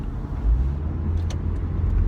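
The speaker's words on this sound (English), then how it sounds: "the traffic is getting crazy town" Road traffic in industrial Seattle rumbles past: a near car or truck passes with a low, continuous roar over steady background roadway noise, with no one speaking.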